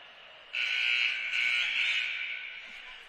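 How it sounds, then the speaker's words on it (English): A loud electronic buzzer sounds at a high school varsity boys ice hockey game, starting abruptly and holding a steady harsh tone for over two seconds over faint rink ambience. "Wonder what the buzzer sounded for"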